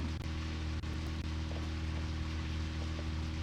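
Steady rain falling in the video game Deadly Premonition, a constant close wash of patter that continues without a break from start to end.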